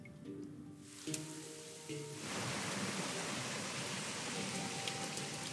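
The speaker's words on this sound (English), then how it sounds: "Wow, it's really raining here, it sounds like." Heavy rain falls in the Rain Code video game, starting after some soft tonal game sounds and turning into a steady, dense hiss that continues to the end.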